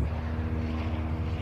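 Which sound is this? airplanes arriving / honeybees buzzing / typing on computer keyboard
airplanes arriving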